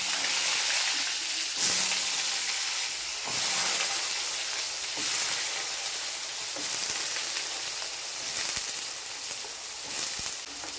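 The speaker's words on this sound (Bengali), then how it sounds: "আলুটাকে আমি লাল লাল করে ভেজে নেব।" Diced potatoes fry in hot oil tempered with a pinch of hing, a loud, steady close-up sizzle with occasional scraping from stirring and no talking.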